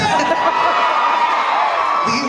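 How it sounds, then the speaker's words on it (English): A large anime convention crowd cheers and whoops at a panel Q&A, a loud sustained roar of many voices lasting throughout. "Every single cheer sounds like a stadium cheer."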